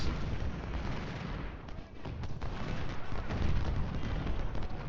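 Continuous rumbling battle din of Civil War cannon and musket fire in the strategy game Ultimate General: Civil War, a dense, steady roar of booms and crackling volleys with no distinct individual shots.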